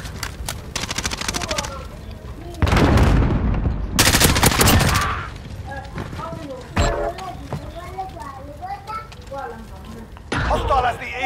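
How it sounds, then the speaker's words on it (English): Bursts of gunfire in a multiplayer video game crack loudly in several volleys, some sustained and rapid, between quieter stretches where players talk over the action. "Whoa, where am I getting shot from?"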